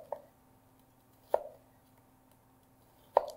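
A knife cuts down through an onion onto a board in three sharp, separate chops spaced about a second and a half apart, close and clear against a quiet room.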